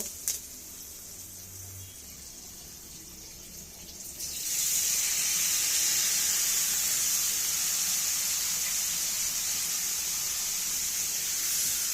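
Washed sweet pumpkin pieces hit a hot frying pan and a loud, steady hiss and sizzle bursts up, holding strong after a quieter opening.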